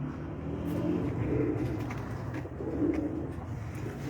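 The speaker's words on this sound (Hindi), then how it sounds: "उन्होंने चैंपियन कबूतर है, देखो 9 साल से चैंपियन लगातार वो।" Pigeons cooing nearby in soft, low, rolling calls that swell and fade twice over a faint background hum, with no voices.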